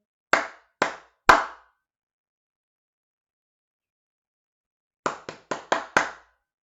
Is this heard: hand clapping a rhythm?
yes